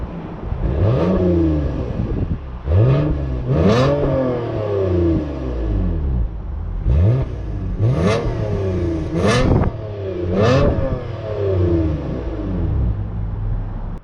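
A 2022 Toyota Avalon Touring engine revs repeatedly through dual exhaust, rising and falling in pitch with throaty rumble, several accelerating pulls in a row.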